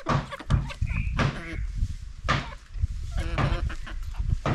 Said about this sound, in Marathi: कोंबड्यांना पण रताळी आवडली।